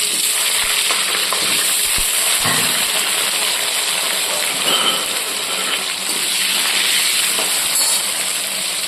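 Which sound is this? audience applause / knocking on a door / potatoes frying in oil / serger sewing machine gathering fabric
potatoes frying in oil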